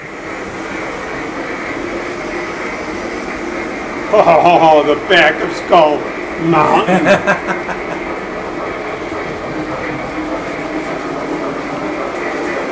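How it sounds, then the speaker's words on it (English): A model train runs on a Skull Island themed layout, coming out of a tunnel near a volcano, giving a steady low rumble and rolling clatter throughout while people talk over it in the middle. "you can see a super train's going."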